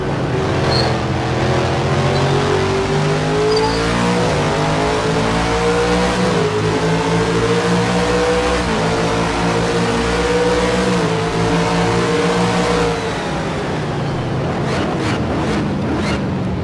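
A race car engine at the 24 Hours of Sebring, heard onboard, roars loudly and steadily, its pitch rising through each gear and dropping at every upshift, with heavy wind rush throughout.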